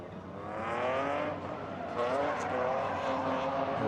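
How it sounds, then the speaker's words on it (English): A BMW E46 M3 drift car revs hard during a drifting competition qualifying run in Riga, its engine note rising and held loud and close, with a commentator talking over it. "Rocking a BMW E46 M3"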